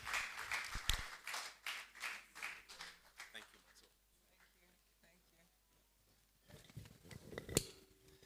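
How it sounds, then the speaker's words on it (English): An audience at a creative-industry business networking event claps for a session coordinator, a few seconds of quiet, uneven hand clapping that fades out, then a brief burst of clapping returning at the end. "Please, let's clap for her."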